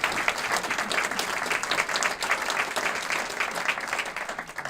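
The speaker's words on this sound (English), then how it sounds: "let's give a round of applause to our panelists." At a chamber of commerce forum on retail, an audience claps for the panelists, a steady, fairly dense round of applause filling the room throughout.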